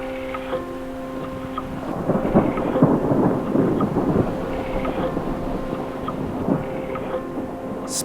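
Distant thunder rolls across Canyonlands National Park at sunset, a long, deep rumble that swells and fades over several seconds with a faint patter of rain.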